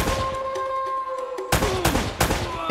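Gunfire in the video game Uncharted: loud bursts of rapid shots, with a heavy volley starting partway through and another burst near the end, over a steady game soundtrack.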